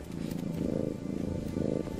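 A cat purrs in a scene from the animated film Shrek 2, a low rhythmic rumble pulsing in slow repeated cycles, close and steady with no talking over it.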